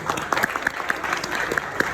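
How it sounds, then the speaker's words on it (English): Light audience applause at a mentalism masterclass in Dubai, scattered individual claps popping out over a soft bed of clapping, fairly close. "give her a round of applause, please"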